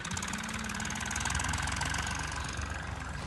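Steady, loud diesel tractor engine running close by while plowing a castor field, a fast pulsing chug with no pauses or speech.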